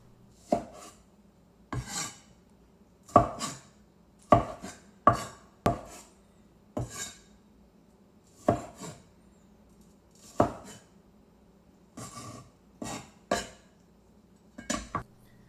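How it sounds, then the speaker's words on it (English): Tomatoes are sliced into medium pieces on a board, about fifteen crisp separate knife strokes in an uneven rhythm with short quiet gaps between, close and clear. "Now cut them up into medium-sized slices."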